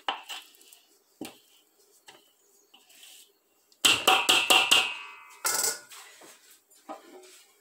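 Metal baking pans for zucchini bread clank and rattle as they are handled, with a quick burst of bright metallic knocks midway and another clatter shortly after, set among softer kitchen taps with no talking.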